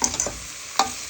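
Meat frying in a pan being stirred, a soft sizzle under a few quick scrapes and clinks of a spoon against the pan, close with no talking.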